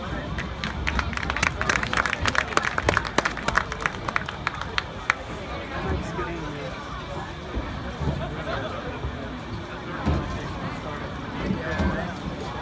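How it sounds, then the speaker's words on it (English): Audience applause and cheering at a high school senior night for football players and trainers, a dense wash of clapping with sharper claps early on, crowd murmur underneath and steady babble throughout. "let's give the football players and trainers just another round of applause, please"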